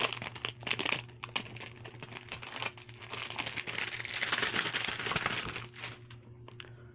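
Plastic shrink wrap is torn and crinkled off a Nintendo Switch console box, with close, continuous crackling and ripping over seven seconds and a few sharper tears near the start.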